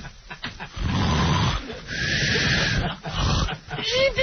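A voice imitates snoring in the exaggerated Three Stooges style, with long, rough, growling inhalations, loud and close, with short gaps between the exaggerated snorts.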